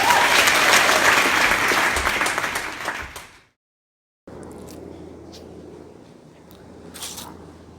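A comedy show audience claps and cheers loudly for an incoming performer, a dense burst of applause that fades out and cuts to near silence, then gives way to quieter room tone with a few faint sounds.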